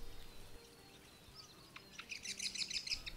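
A rose robin calls at a water point, giving a quick burst of high, thin chirps toward the end. The calls are faint and close together over quiet background hiss.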